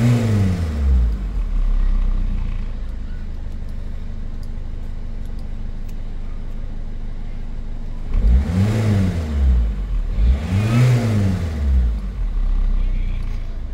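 Peugeot 206 HDi diesel engine idling unevenly, running close and steady before the revs surge and sag twice near the end, with a voice faintly present.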